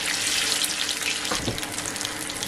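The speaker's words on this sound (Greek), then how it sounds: "Τους αφήνουμε να τηγανιστούν καλά." Dough pieces frying in hot oil give a steady, dense sizzling hiss that stays close and fairly loud throughout, with a brief bubbling swell midway and no talking.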